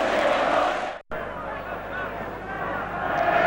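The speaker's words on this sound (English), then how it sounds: "And listen to the crowd." Stadium crowd at a Liverpool versus Everton football match, a dense continuous roar and hubbub of many voices, loud and steady with a brief dropout near the start, then swelling slightly toward the end.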